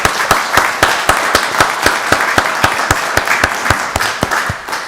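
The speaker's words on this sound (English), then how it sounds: "let's give them both another wonderful round of applause" A room at a county board meeting claps together in a round of applause, with crisp, evenly spaced claps that carry on steadily and loudly.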